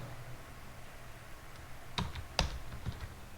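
Soft keystrokes on a computer keyboard, a few separate clicks and taps over a quiet background hum, faint and close, with no talking.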